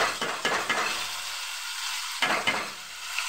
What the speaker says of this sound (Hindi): प्याज के कलर ब्राउन होते ही इसमें हम ये टमाटर इसमें अब झोंक देते हैं